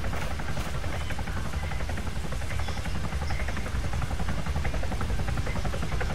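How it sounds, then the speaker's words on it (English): Helicopter in the video game Arma 3 passing overhead, a steady loud rotor and engine drone that fills the scene without letup, with no talk over it. "It's a helicopter over my head."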